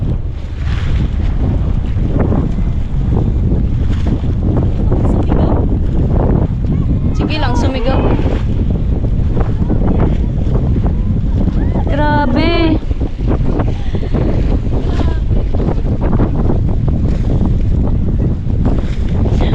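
Continuous rushing of choppy water waves on a non-sea body of water and heavy wind buffeting the microphone, with people talking and a brief shout over it.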